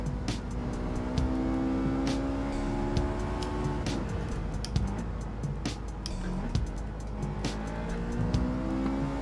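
Race car engine in Gran Turismo 7 on PS4 Pro, running steadily throughout with downshift blips and some tire squeal as the car brakes hard into corners, loud and continuous, with no talking.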